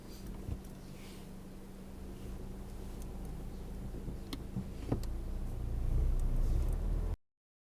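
A learner's car pulls away on a mock driving test near Sixfields roundabout in Northampton, its steady engine hum building gently in the cabin, with a brief click and a slight rise in loudness toward the end.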